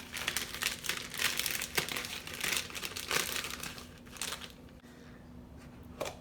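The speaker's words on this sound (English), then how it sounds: "I'm actually going to separate this equally within 2 plastic bags." Plastic bags crinkle and rustle steadily at close range as a dry backpacking food mix is divided between two of them, with sharper crackles scattered through and a quieter stretch near the end.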